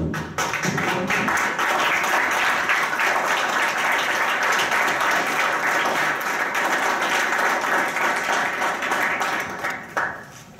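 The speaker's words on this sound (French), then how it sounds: "Je souhaiterais applaudir pour vous." Audience applause at a conference session, a dense, steady wash of clapping that holds loud for about ten seconds before tapering off at the end.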